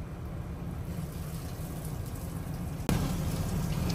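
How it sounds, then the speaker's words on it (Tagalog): Heavy rain falls at sea around a fishing boat during a storm, a loud, dense, continuous hiss with a low rumble underneath, briefly interrupted by a sharp knock before it resumes. "Lakas ng ulan."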